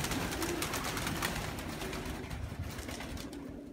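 Pigeons coo on the first day of training young squeaker pigeons, with soft bird calls mixed into a steady, fairly loud background of outdoor noise and rustling.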